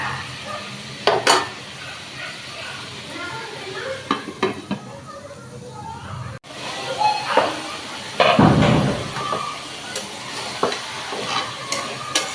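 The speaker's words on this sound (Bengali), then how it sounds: "বেগুনটা আমি একটু কষিয়ে নেব।" Eggplant sautés in a pan for a hilsa fish curry, with a soft sizzle under scattered stirring scrapes and clinks of a utensil against the pan, while someone talks throughout.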